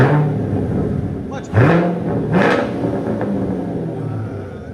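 A 2015 Chevy Corvette Stingray with a 6.2L V8 and straight pipes revs loud and near in two sharp throttle blips over a deep rumble, with voices heard alongside.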